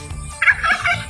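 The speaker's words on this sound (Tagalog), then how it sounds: "Yung may pabo" A turkey gobbles on a provincial farm that also keeps derby chickens and ducks, giving a single short, close, warbling call that rises abruptly and trails off within about a second.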